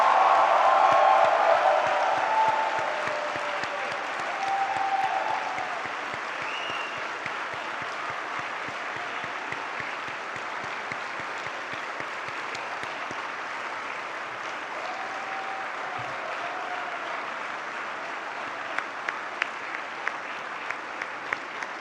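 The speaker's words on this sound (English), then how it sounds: "give them the biggest round of applause and the loudest possible cheer" A graduation ceremony crowd at ISB claps in a long, steady round of applause with some cheering, moderately distant and even, a few sharper individual claps standing out near the end.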